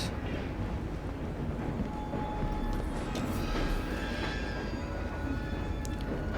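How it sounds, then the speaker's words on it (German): A runaway train in Assassin's Creed Syndicate rumbles on without letup, a dense, steady rolling roar with faint metallic rattles and clanks. "Reparieren Sie schnell den außer Kontrolle geratenen Zug, bevor er entgleist."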